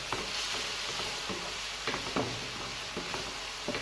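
Garlic ginger paste fries with onions in a pan, a dense close sizzle with rhythmic scraping strokes of a spoon as the mixture is stirred.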